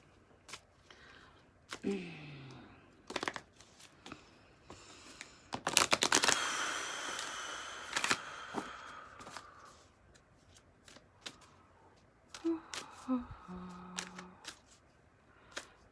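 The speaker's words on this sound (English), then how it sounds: "Tanya, I'm going to do this messages from angels cards for you." Messages from Angels oracle cards being shuffled, intermittent papery riffles and card handling with a longer burst in the middle, quiet and close, with no talk.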